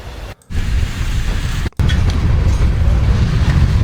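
A freight train rolls by at very close range, a loud, dense rumble of wagons that cuts out abruptly twice in the first two seconds before continuing steady and heavy.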